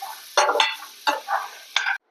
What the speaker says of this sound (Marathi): मसाला यावरती आपल्याला घालायचा आहे आणि पटपट असं मिक्स करून घ्यायचं आहे